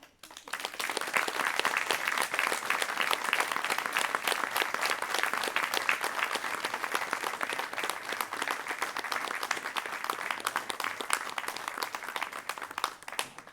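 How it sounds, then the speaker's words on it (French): An audience at a cheque presentation ceremony breaks into warm applause that builds quickly and then holds as a dense, steady clatter of many hands for over twelve seconds, with no speech over it. "Est-ce qu'on pourrait applaudir Sven ici?"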